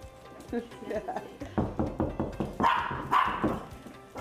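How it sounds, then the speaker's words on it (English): A small dog barks in quick repeated yips, fairly close, while a person talks over it. "If she hears something, she'll start barking and think she's going to scare somebody."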